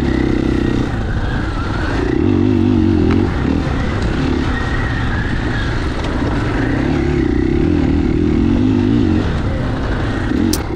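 A 2021 KTM 500 EXC-F dual sport motorcycle lapping a modified dirt course, its engine droning loud and close throughout, rising and falling in pitch as the rider works the throttle and shifts.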